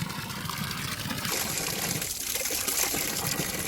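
Mountain spring water runs steadily from a hillside outlet, a continuous close trickling and gushing flow with no pauses.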